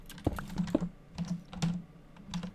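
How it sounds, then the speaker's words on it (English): Computer keyboard typing during a Minecraft UHC game session, a quick irregular run of close, light key clicks with short pauses, recorded alone with no talk. "keyboard noises."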